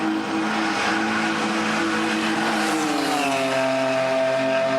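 BMW E30 race cars roar around a track during a New Zealand E30 race series event. Engine notes are loud and sustained, rising and shifting in pitch as the cars pass, with no talk.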